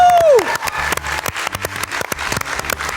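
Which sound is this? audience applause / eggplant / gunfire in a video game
audience applause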